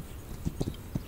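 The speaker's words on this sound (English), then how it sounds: "Now you hear the extra galloping sounds. That's just a sound glitch." Glitched extra horse gallop from the video game This Land is My Land: a few soft, muffled hoof thumps spaced irregularly over a low, steady background, fairly quiet and with no talk.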